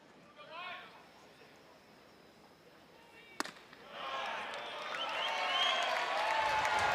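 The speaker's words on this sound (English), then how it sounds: "And a bit of a Bronx cheer from the crowd after strike 1 to Brock" Baseball crowd at a college game between Oklahoma and Vanderbilt rising into a broad, swelling mass of jeers and noise after strike one, building steadily over several seconds after a brief sharp pop.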